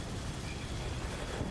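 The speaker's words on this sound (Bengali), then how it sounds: "বৃষ্টি তখনও পড়ছে, তবে আগের মতো ভয়ঙ্কর নয়" Steady rain keeps falling after a storm has eased, a dense, even hiss of drops with a low rumbling undertone and no voices.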